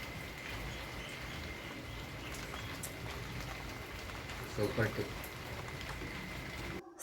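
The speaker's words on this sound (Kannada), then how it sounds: "ಸಂಜೆನೂ ತುಂಬಾ ಮಳೆ ಸ್ನೇಹಿತರೆ" Steady rain pours down through a wet evening at home, an even broadband hiss that never lets up. A voice speaks briefly over it.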